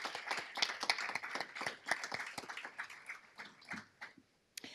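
An audience at an employee scholarship awards ceremony claps in a brief, fairly quiet burst of scattered hand claps that thins out and fades toward the end.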